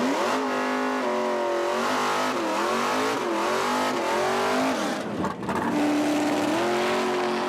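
A Ford-powered Capri and a turbocharged Chevy HQ Holden launch at a New Zealand drag racing nationals event. Engines scream at high revs with rising and shifting pitches, and the loud sound is sustained and roaring throughout.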